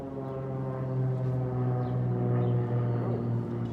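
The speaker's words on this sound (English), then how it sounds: "you don't see planes flying that low over Manhattan too much anymore" Low-flying airplane over Manhattan, a steady droning engine hum heard from a distance that swells and fades slightly, with no talking over it.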